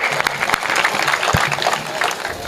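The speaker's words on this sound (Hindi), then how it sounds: "एक बार तालियां बजाइए" Audience clapping at a Hindi comic poetry gathering fills the room, a steady patter of many hands at moderate volume, with a few sharper claps standing out.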